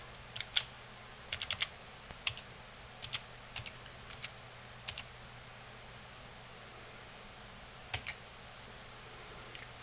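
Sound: typing a password on a computer keyboard

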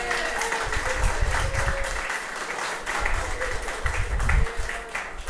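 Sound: wedding guests applauding

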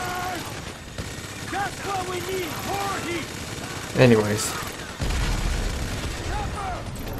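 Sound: explosions in video game Grand Theft Auto V

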